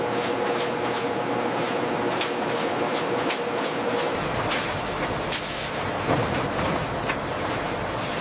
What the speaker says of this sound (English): Specialized injection systems deliver precise amounts of liquid seasoning into each piece.